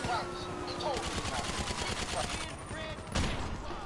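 Gunfire in a GTA game rattles out in quick bursts and scattered single shots, fairly faint, with a sharper blast near the end.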